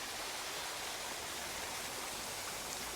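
Water pours steadily at a waterfall, a dense, continuous broadband rush of flowing and splashing water that stays loud and even throughout, with no voices.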